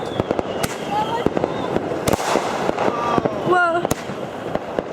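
Fireworks on Northern Territory Day in Australia: sharp, loud bangs and crackling bursts pop repeatedly across the night, with a whistling rocket rising before a blast and a person exclaiming over the noise.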